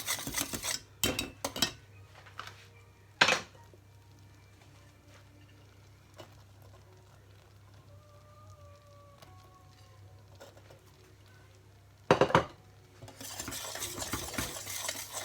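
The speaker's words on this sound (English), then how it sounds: "Stir that in, and I'm going to add some of the cheese to this as well to make it like a cheesy sauce" A spoon scrapes and clinks in a pan while cheese is stirred into a thick chicken pasta bake sauce; scattered sharp knocks and scrapes come near and moderately loud, with quieter stretches between and a light sizzle underneath.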